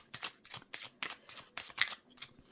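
Oracle cards shuffled by hand in a quick run of soft papery riffles and slaps, about ten bursts over a couple of seconds, close and fairly quiet with no voices.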